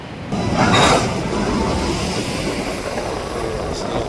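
A westbound train pulling into Sapperton station, a loud, steady rumble of wheels and cars rolling past close by with a brief high squeal, sustained throughout without talk.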